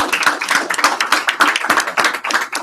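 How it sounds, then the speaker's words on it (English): A small group clapping at a training session, with quick, close hand claps forming a steady, even patter that runs for nearly three seconds. "Can we get claps for David, please?"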